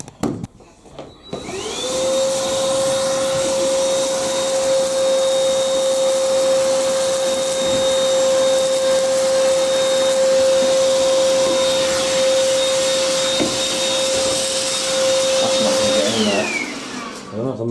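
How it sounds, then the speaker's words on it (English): A Bush vacuum cleaner runs loud and steady for about fifteen seconds with a sustained whining motor tone while sucking fluff out of a Proline tumble dryer, then winds down. "So it might be a bit loud on the vacuum."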